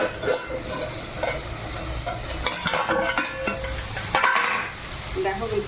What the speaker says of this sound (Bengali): দেখো লাউটা প্রায় ভাজা হয়ে এসছে